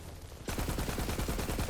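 Rapid burst of gunfire from the Redistributor gun in Borderlands 3, a dense string of loud, evenly spaced shots cracking in quick succession after a brief quiet start.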